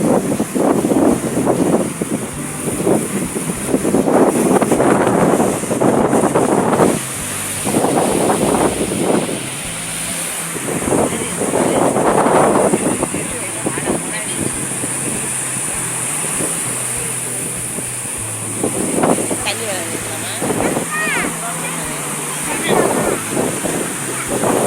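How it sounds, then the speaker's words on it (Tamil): Sea wind gusts hard across the microphone at Marina Beach while ocean waves wash in beneath, a steady roaring hiss with louder bursts, people talking over it throughout. "அந்த காற்றடிக்கிற சவுண்டு, இந்த அலையோட சத்தம் எல்லாம் அப்படியே சூப்பராக இருந்ததுங்க"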